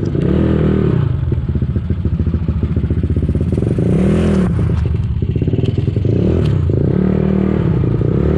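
A Yamaha Mio scooter with a 4-valve head runs nearby with a steady, buzzing engine note and a rattling clatter, held at a constant rev throughout.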